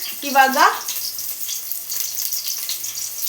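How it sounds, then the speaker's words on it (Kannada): Chopped onion frying in hot oil in a home kitchen pan, a soft continuous sizzle with a brief louder stir or clatter near the start, then a steady moderate crackle for the rest. "ನಾನು ಆಲ್ರೆಡಿ ಆಯಿಲ್ಗೆ ಆನಿಯನ್ ಹಾಕಿದ್ದೀನಿ"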